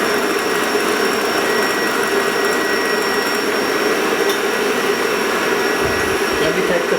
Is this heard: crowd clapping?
no